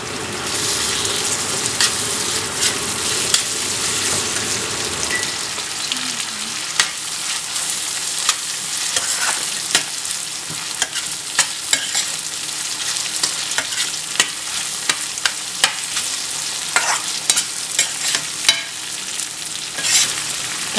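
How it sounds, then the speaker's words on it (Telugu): Chopped tomato frying in a pan for a ridge gourd and dry prawn curry, a steady broad sizzle with repeated scraping stir strokes throughout, fairly close and loud, with no talk. "టమాటా వేగుతూ ఉంటుంది."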